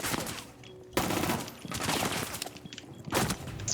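Rapid gunfire bursts ring out in a Rainbow Six Siege match, loud and near, coming in two dense volleys separated by a brief lull.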